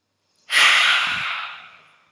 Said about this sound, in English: Okay, everyone together. Breathe in.